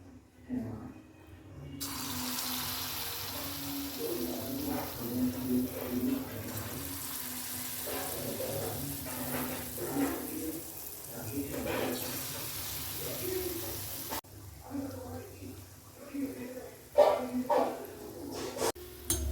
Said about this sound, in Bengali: আমি লাল লাল করে ভেজে নিচ্ছি বড়াগুলো